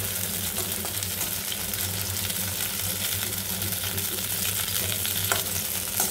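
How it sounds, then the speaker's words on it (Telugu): Coriander stems fry in hot oil for a chutney, giving a steady, dense sizzle and crackle that stays close and loud throughout with no pauses. "ఆయిల్ వేసుకొని ఇవి ఫ్రై చేసుకోవాలి."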